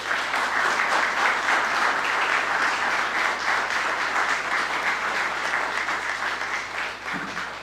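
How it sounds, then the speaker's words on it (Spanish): Sustained applause from a church congregation, dense steady clapping that continues for several seconds before slowly tapering. "Un fuerte aplauso."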